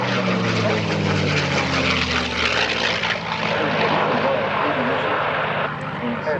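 A propeller airplane flown by Vicky Benzing passes close and loud at the EAA AirVenture 2026 airshow, its steady droning engine note sliding lower in pitch as it goes by.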